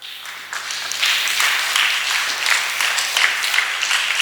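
A church congregation at a Sunday service breaks into applause, dense clapping swelling after a brief start and staying steady, moderately loud and slightly distant.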